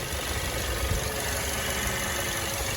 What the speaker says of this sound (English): it's a pretty powerful engine